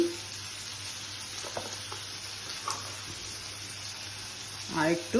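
Ground cumin and coriander powder frying in oil in a pan, a steady low sizzle running throughout with a brief stir or clatter near the end, and a short spoken phrase over it.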